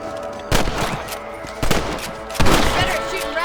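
Rifle shots fired at rabbits in Red Dead Redemption: three loud, sharp reports spaced about a second apart, each with a short ringing decay over a faint musical background.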